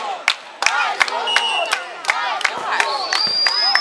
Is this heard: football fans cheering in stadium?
yes